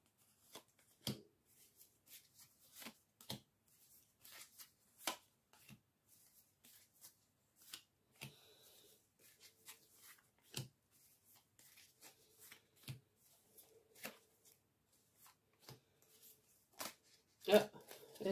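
Tarot cards are shuffled and laid down in a quiet room, giving a scattered series of soft, sharp snaps and flicks at an irregular pace, with a voice speaking intermittently.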